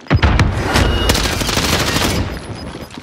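Rapid bursts of automatic gunfire from a Call of Duty Warzone battle royale match, loud and dense, with sharp shots clustered near the start and a continuous barrage running through the rest.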